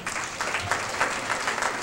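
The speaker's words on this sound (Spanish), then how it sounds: "Vamos a dar un fuerte aplauso," A room full of people clapping loudly and continuously, a thick, steady patter of applause close by.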